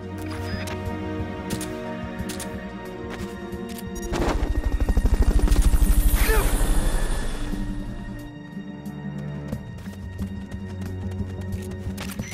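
A helicopter in the video game Metal Gear Solid Peace Walker, a loud rhythmic rotor chop that swells to a peak midway and then recedes, layered over a sustained game music and ambience bed.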